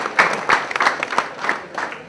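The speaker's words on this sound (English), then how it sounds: "So big round of applause for the students from Jaipur." Applause from an audience of students from Jaipur at an Indian animation event, a modest burst of clapping with uneven, scattered claps rather than a dense roar.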